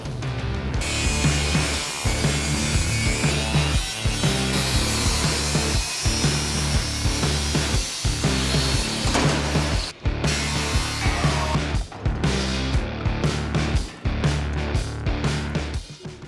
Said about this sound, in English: So that's all the floor cut out, Keith?